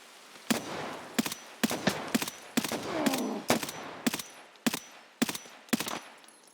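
Repeated gunshots in the online shooter Escape from Tarkov, about a dozen sharp, loud cracks fired in short bursts and single shots with uneven gaps, each ringing briefly before the next.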